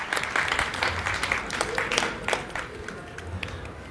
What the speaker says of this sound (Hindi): कृपया जोरदार ताली बजाएं, अपनी करतल ध्वनि से महाराज जी का स्वागत करें।